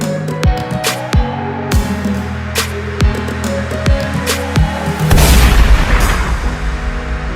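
A run of deep booming thuds, one after another, leads into a louder, noisy blast that rumbles on for a couple of seconds.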